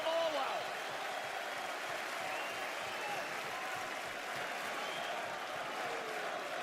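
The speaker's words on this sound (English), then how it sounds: "To the roar of this massive crowd" A big WWE SmackDown arena crowd roars and cheers in a steady, dense wash of noise that holds at a high level throughout, with no clear single voices standing out.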